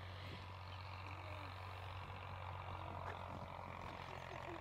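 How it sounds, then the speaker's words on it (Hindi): Steady low tractor engine drone on a farm runs throughout, a constant mechanical rumble with no pauses, fairly distant and unchanging. "इस साइड पे चल रहा है ट्रैक्टर और ट्रैक्टर का शोर जो है वो काफ़ी ज़्यादा है"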